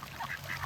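Young farm ducks, about six months old, quack in a short close burst of a few calls with steady outdoor background noise and no talking.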